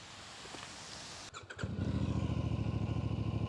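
A motorcycle engine kicks into life after a brief rattle, then settles into a loud, steady, throbbing idle close by.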